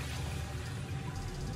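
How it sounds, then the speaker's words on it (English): Eight cups of water pour steadily into a pot for chicken broth, a continuous close rushing splash that stays even and fairly loud throughout, with no speech. "we're going to add in 8 cups or 2 quarts of water, and we're going to turn this into chicken broth, okay? So I'm going to start by just pouring it in,"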